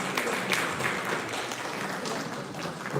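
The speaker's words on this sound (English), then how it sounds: "Please give a big round of applause." Audience applause at an AI pre-summit event, a steady, dense wash of many hands clapping throughout, moderately loud and without speech.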